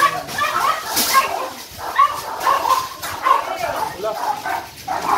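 Small dogs, including Pomeranians, in a crowded Cartimar pet shop, yipping, barking and whimpering in repeated bursts, fairly close, with people talking over them.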